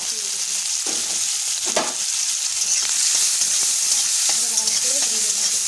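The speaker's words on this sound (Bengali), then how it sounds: "এবারে গেঁড়িগুলো ভেজে নেব।" Freshwater snails fry in hot oil in a wok, giving a loud, steady sizzle throughout with occasional stirring scrapes and clinks.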